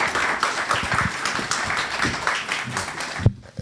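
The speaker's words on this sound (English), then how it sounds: "ladies and gentlemen, with a round of applause, please welcome him" A lecture audience claps steadily in dense, continuous applause, then the clapping abruptly cuts off near the end.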